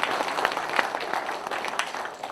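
Audience applause for a lawmaker at a 2023 constituency policy report meeting in Korea, a dense, steady clapping from a large indoor crowd that runs throughout and fades slightly at the end.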